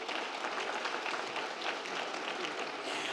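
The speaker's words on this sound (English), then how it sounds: "Can we give Tiana a huge round of applause?" An audience at a school board meeting applauding, a steady wash of many hands clapping throughout at moderate distance, with no pauses.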